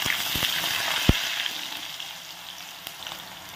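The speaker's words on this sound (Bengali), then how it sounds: "তে আমি এক এক করে কেটে রাখা সবজিগুলো দিয়ে ভেজে নেব।" Chopped winter vegetables sizzle steadily in hot spiced oil while a bhog khichuri is cooked, with a few sharp clinks of stirring over the close, crackling fry.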